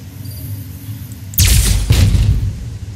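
A car exploding in the video game Fallout New Vegas: a sudden loud, close blast halfway through with a second burst right after, over a low background rumble. No speech.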